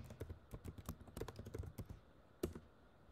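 Someone types a command on a computer keyboard in a quiet room. A quick, close run of keystrokes is followed by a pause and one last louder key press.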